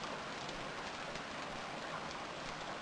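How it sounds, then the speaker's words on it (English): Steady rain falls in the survival game Stranded Deep, a dense, even hiss of drops that stays constant and fairly close, with no voices or other sounds over it. "Let me go rest inside my house here whilst it's raining outside."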